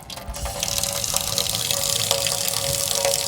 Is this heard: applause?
no